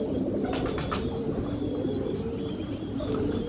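Ferozpuri Saleti pigeons cooing in a loft, soft repeated coos amid a busy flock with scattered chirps and wing flutters over steady background noise.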